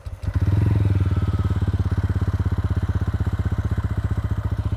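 A single-cylinder motorcycle, either a Royal Enfield Hunter 350 or a TVS Ronin 225, starts and settles into a close, steady idle with an evenly pulsing exhaust thump throughout, no talking.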